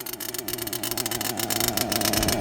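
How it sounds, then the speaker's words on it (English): Engine of an HPI Savage Octane RC truck with a 3-speed transmission, a buzzing two-stroke note pulsing rapidly as it revs, rising in pitch and loudness through the clip while the truck pulls wheelies and shifts gears. "Savage Octane, popping wheelies and shifting that 3-speed"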